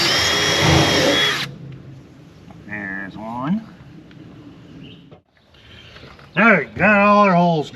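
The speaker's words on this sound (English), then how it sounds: "Alright, got all our holes drilled." Power drill boring bolt holes in a trailer, a loud close whirring burst at the start that cuts off, followed by quieter shop sounds and a few squeaky tool noises.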